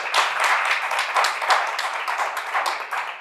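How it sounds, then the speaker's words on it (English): A talk show studio audience gives a steady round of applause, a dense, even wash of many hands clapping without pause. "Another big round of applause."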